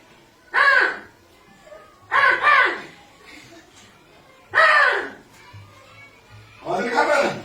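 A crow gives four harsh, raspy caws, loud and close, spaced a second or two apart with quiet between them.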